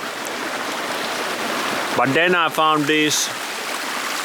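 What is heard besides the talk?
waterfall flowing in the bush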